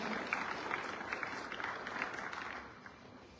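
Applause from a gathering at a Republic Day flag-hoisting ceremony in a school courtyard, a soft, fairly distant patter of clapping that fades toward the end.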